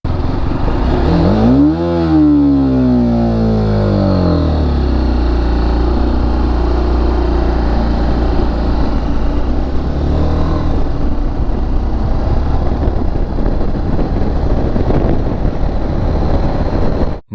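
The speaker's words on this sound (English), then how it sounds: "I'm in 6th gear, and now let's launch it." A motorcycle launches from sixth gear without stalling. The engine is loud and close, its pitch rising briefly as it revs, then settling into a sustained, strained drone that continues to the end.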